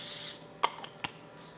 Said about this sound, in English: Then I put a light spray.